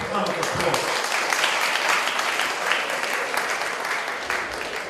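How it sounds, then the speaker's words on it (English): Wedding guests give a sustained round of applause, dense, even clapping from a crowd that carries steadily throughout without a break. "Please, I would like us all to give him a big hand of applause."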